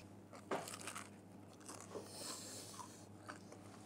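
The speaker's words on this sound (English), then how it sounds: "I want to hear the crunch before everything." A knife crunches through crisp pizza crust in a few quiet, dry crackling bursts, with faint room hum in the background.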